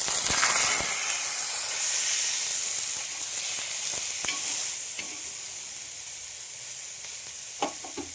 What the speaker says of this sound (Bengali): চাটুতে তেল দিয়ে এপিট ওপিট শিখে নিচ্ছি